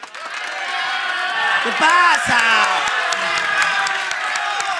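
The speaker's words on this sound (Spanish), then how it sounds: "El pueblo de Yo Soy te recibe con estos aplausos" Studio audience at a televised singing talent show cheering, whooping and applauding, a swelling crowd roar with clapping under a brief spoken question from one person.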